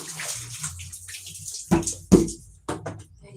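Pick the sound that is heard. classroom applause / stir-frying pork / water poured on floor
water poured on floor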